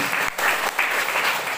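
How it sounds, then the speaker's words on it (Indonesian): A church congregation at an evening Christmas service claps together, a brief burst of dense, lively applause filling the room. "Mari kita beri dulu tepuk tangan yang terbaik buat Tuhan Yesus Kristus."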